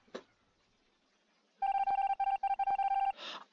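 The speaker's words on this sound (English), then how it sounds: "Stop sending me Discord notifications." Discord notification chimes during an Among Us game: a short burst of rapid, bright electronic pings repeating in quick succession, clear and alone after a faint click.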